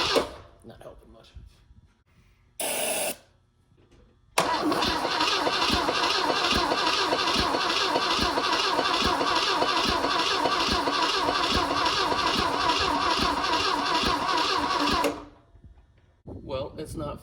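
A Pontiac Tempest engine with a rebuild fault cranks without firing: a brief burst, then about eleven seconds of steady, rapid, loud starter churning that stops abruptly, with voices around it.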